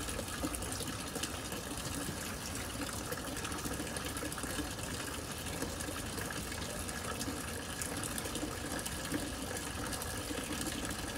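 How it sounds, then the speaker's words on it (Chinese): Water flows steadily at a quiet mountain retreat, a constant, even rush with no breaks or voices across the whole stretch, moderately loud and close. "你只听这水的声音没？"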